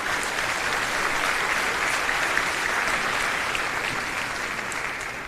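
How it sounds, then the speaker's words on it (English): Applause from a graduation ceremony audience, a dense steady wash of clapping hands that holds at an even volume for several seconds before easing slightly at the end. "Let's give him and his staff a round of applause."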